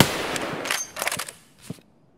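Gunfire in the shooter Escape from Tarkov: several rapid bursts of shots with sharp cracks, fading toward the end and leaving silence.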